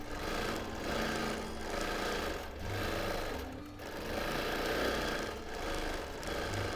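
A sewing machine stitches free-motion edge-to-edge quilting in a steady, close, continuous run, its buzzing motor swelling and easing in slow pulses as the speed changes.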